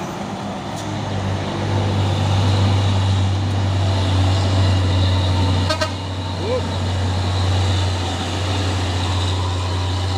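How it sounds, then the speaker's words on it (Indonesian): A Soren truck drives past on a road among other traffic, its deep engine drone steady and close, with a brief horn-like toot partway through and a voice talking over it. "Dan ada juga truk Soren."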